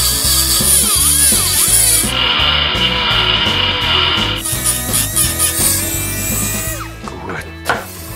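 A power grinder works the transfer port of a Puch Maxi E50 moped cylinder, its high whine shifting in pitch as it bites into the metal, loud and continuous, with a rhythmic hum beneath.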